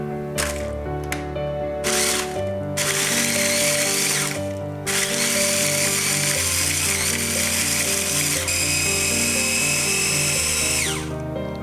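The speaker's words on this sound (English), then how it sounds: "you can use a blender, just like so" A loud blender motor whirs and grinds steadily, with brief pauses and bursts of harsher rattling as the blades chew dry ingredients into flour; no speech.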